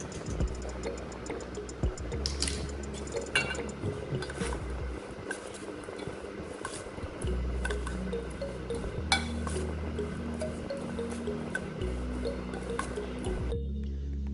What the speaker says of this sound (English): And then we are going to add in some of the essence.